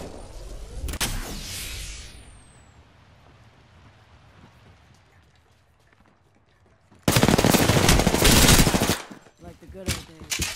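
Bursts of rapid automatic gunfire in the video game Apex Legends, loud and dense, first a short burst, then a long sustained volley and a few trailing shots, with quieter game ambience between.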